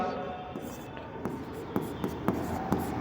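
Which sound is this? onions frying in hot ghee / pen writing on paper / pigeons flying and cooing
pen writing on paper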